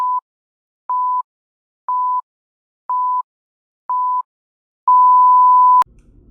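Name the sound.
countdown timer beeping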